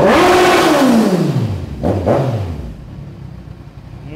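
A 2015 Kawasaki Z1000 motorcycle sitting in neutral is revved hard twice, each loud, close throttle blip rising and falling before the engine settles back toward a quieter idle.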